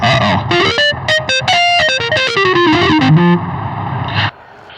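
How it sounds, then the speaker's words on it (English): A GO:KEYS 5 keyboard plays a quick run of notes through its harsh distortion effect, gritty and buzzing, before cutting off abruptly. "Distortion."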